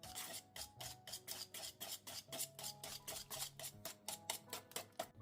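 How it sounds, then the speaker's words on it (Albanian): A utensil beats cheesecake batter in a bowl after an organic egg is added, fast rhythmic scraping and clacking strokes repeating evenly, close and fairly quiet, with no talking. "Përzijemi."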